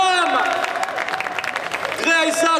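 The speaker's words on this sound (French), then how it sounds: "Vous pouvez l'applaudir très très fort," Audience at a cosplay contest during an otaku festival claps loudly and steadily while a presenter speaks over it, with tonal music or voice cutting in near the end.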